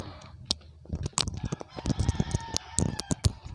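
Chickens cluck and squawk nearby in a busy burst of overlapping calls, with sharp clicks and rustling mixed in.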